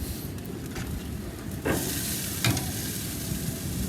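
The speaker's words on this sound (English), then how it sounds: "I'm going to flip these back over." Pork ribs sizzle steadily on a Masterbuilt BBQ, with a loud, close hiss that swells in two brief bursts as the ribs are flipped.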